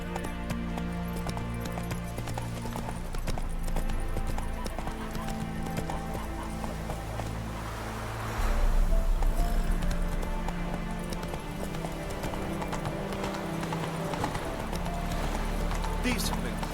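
Hooves of Roach, the horse in The Witcher 3: Wild Hunt, clip-clopping in a steady gait under game music and dialogue, with a louder rumble of hoofbeats midway.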